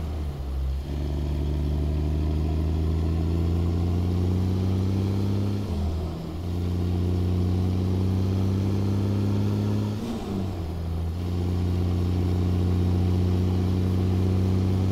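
A Kenworth-style FLX 359 truck hauling cattle in American Truck Simulator drones steadily with a loud, deep engine note, its pitch climbing slowly between two brief dips as gears shift.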